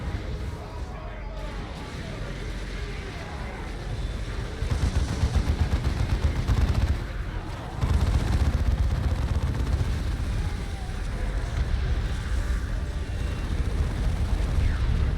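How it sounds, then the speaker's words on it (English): Artillery strike explosions in the Dawn of War 2 video game: a dense, continuous barrage of booms and rattling gunfire-like blasts, loud and sustained, with voices talking over the battle. "Artillery strike."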